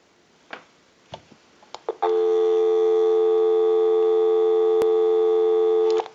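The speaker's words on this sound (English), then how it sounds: "Go ahead and give you some dial tone." Dial tone on a Western Electric 302 rotary desk telephone line, a few handset clicks and clunks, then a loud steady continuous tone that holds for about four seconds before a click ends it.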